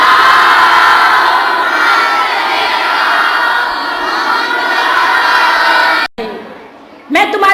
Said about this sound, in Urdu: ایک باواز بلند صلوات بھیجے اتنی زور سے کہ جو باہر لوگ ہیں ان کو سنائی دی جائے۔